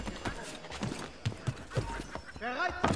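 Horse hooves clip-clop in a quick rhythmic gallop in the video game Assassin's Creed 3, with a brief whinny near the end and a voice speaking German over it.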